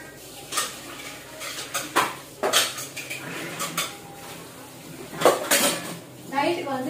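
Pots, pans and cutlery clatter and scrape in a kitchen as dishes are washed, with irregular clanks and knocks at close range and a faint voice at times.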